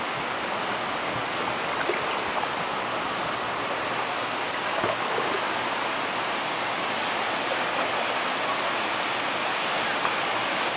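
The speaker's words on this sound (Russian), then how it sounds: "И дальше сейчас будет фонтан." A fountain along the Indianapolis canal: a continuous, even hiss of splashing water that fills the scene without pause at moderate volume.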